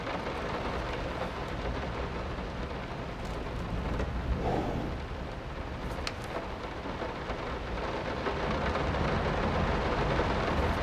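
Steady heavy rain pours and low thunder rumbles continuously during a storm in the video game Layers of Fear (2023), a dense, constant wash of noise with no voices.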